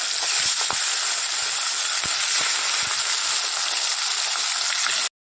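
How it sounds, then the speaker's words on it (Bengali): Fish fries in hot oil with a steady, bright sizzle that fills the whole clip, with occasional soft pops and clinks beneath it and no talking. "যাব তাড়াতাড়ি করে মাছটা ভাজা বসিয়ে দিয়ে নি"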